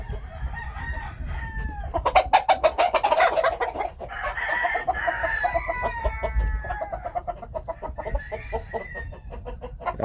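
A Phoenix rooster crows loudly nearby while Phoenix hens cluck and murmur around it in a pen, the calls overlapping in a busy farmyard chorus.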